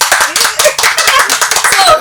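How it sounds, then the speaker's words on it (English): A small group claps briskly and close, quick uneven claps over two seconds with some light talk and laughter underneath. "Clap for yourselves."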